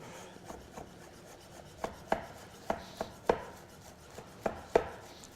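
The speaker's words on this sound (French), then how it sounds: "je vais procéder maintenant à ma julienne de jambon fumé" A knife chops smoked ham into thin julienne strips on a board: a run of sharp, close cuts in an uneven rhythm, growing firmer toward the end, with no talking.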